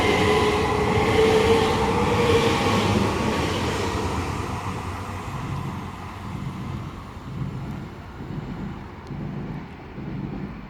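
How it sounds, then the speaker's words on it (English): A Southeastern High Speed Class 395 Javelin train runs through Ebbsfleet International on HS1, heading for Margate. It gives a loud, steady rumble that slowly eases off, with a rhythmic clatter of wheels near the end and no talk. "that's going to be with the 1127 Southeastern High Speed service to Margate"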